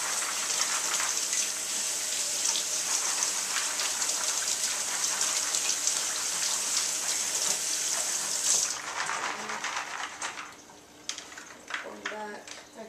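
Almonds being rinsed under a kitchen tap, a loud, close, steady rush of running water that stops near the end and gives way to clinks and handling noise, with someone talking briefly.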